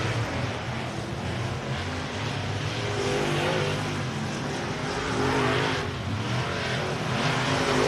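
A super late model race car pulls away down the back straightaway at RPM Speedway, its engine a loud, sustained roar that swells slightly as it goes, with no voice over it.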